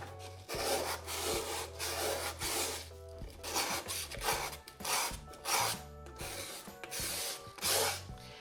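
Sandpaper rubbed by hand over waxed MDF wood: steady, rhythmic back-and-forth rasping strokes, close and clear, with brief pauses between bursts.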